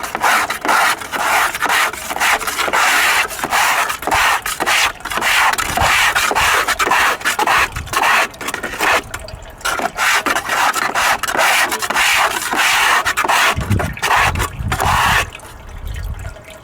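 Hard metal scraping of dirt and magnetite off a magnet sluice into a gold pan, a loud, continuous raspy grinding with brief pauses and a few low knocks near the end.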